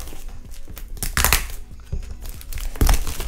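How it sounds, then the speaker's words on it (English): Plastic packaging around a sturdy box of washi tape being cut and crinkled, giving irregular close crackling bursts and a few louder rustles, with no talking. "Let me cut this bit so we have access to the plastic, to the box inside."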